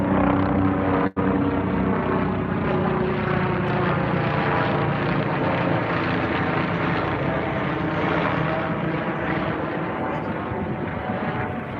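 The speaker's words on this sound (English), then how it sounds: "sorry, the helicopters." A loud, continuous rotor and engine drone dominates as several helicopters pass close overhead, steady with a slight fade toward the end.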